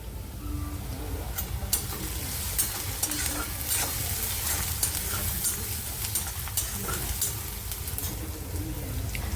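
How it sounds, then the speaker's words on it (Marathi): Poha cooking in a kadhai, a continuous sizzle with repeated scraping and stirring strokes at a moderate, steady pace, close and clear. "आज यात कढईत पोहे बनवते"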